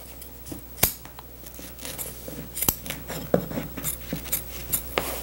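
Scissors trimming excess upholstery material on fitness equipment, a series of sharp close snips and rustles at an irregular rhythm, fairly quiet, with no talking.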